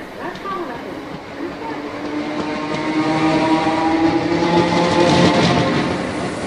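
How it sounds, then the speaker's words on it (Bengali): A train runs along with a rumbling, rolling roar that slowly builds and grows louder, steady and continuous throughout. "ট্রেন ছুটছে।"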